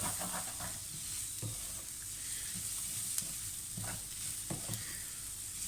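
Chopped onions coated in turmeric and chili flakes sizzle steadily in a hot pan, close by, with scraping stirs of a spoon breaking in every second or so; no talk.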